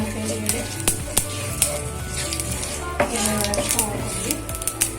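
Curry leaves splutter in hot oil in a pan, sending crisp pops and crackles over a low sizzle, with metal clinks from utensils and a person speaking in between.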